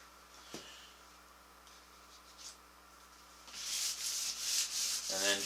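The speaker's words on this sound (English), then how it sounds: "sand it. You're not trying to remove any finish." Hickory vanity finish being lightly scuffed with a fresh, wetted sheet of wet-dry sandpaper, a soft rhythmic rubbing that starts faint and grows into steady, closer strokes in the second half, with no talk.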